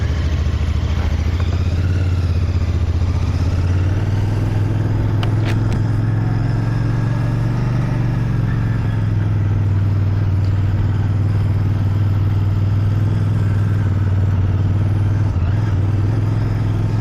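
A Royal Enfield Bear motorcycle on the move, its engine a loud, steady, close drone that holds from start to finish with small rises and dips in pitch.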